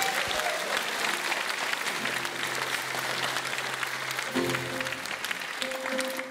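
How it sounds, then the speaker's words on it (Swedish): Concert audience applauding at a live anniversary show, a steady dense wash of clapping with some crowd noise, sustained at moderate loudness with faint musical tones underneath. "En stor applåd."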